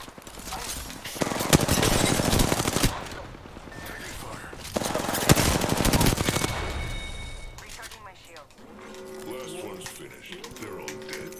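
Gunfire in the shooter Apex Legends: dense rapid bursts of automatic fire in two long volleys, loud and close, with a quieter stretch between them and softer game sounds at the end.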